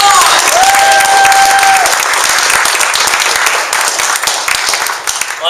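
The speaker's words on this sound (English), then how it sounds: "Give her a big round of applause" Loud, dense audience applause fills a networking association launch event, a steady wash of many hands clapping that thins slightly toward the end, with a brief whistle-like tone early on.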